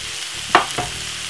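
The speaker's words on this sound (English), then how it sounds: "Give it a nice lovely stir." Saltfish and cabbage frying in a pan and being stirred, a soft sizzle with a couple of quick scraping stir strokes close by.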